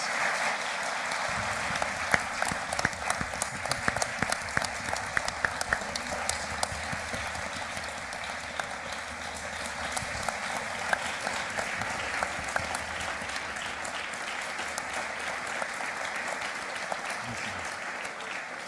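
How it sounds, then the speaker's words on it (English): A live audience claps for a panel at an ASL community opening meeting, sustained dense applause holding steady for the whole stretch at a moderate distance, with no voices standing out. "can we give our panel another round of applause?"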